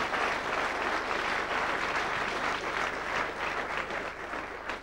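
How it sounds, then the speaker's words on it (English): A club crowd gives a sustained round of applause for the Grumbleweeds comedy act, a thick, even wash of many hands clapping at once that holds steady throughout. "Give him a nice round of applause."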